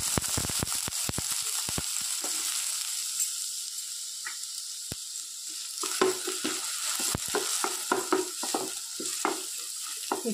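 Chopped onions fry in ghee or oil with a continuous crackling sizzle. Sharp spatula taps and stirring clicks are scattered throughout, denser at the start and end, with no voices.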